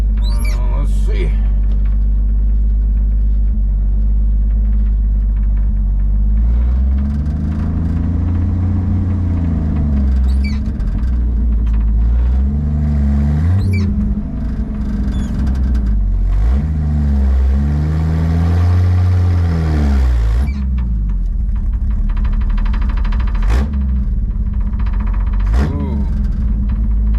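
A Chevrolet Camaro in rough condition, started for the first time in a year, idles with a deep rumble and is then revved repeatedly, each blip swelling and dropping away. It runs close and loud throughout.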